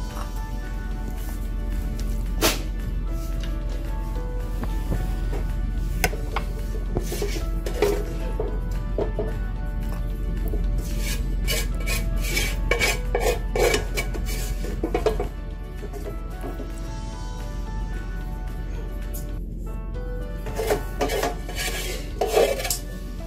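Crispy rice-flour-coated Goan green chili prawn fry being served into a bowl, with clinking utensils, scraping and light clattering of dishes repeating through a steady background hum.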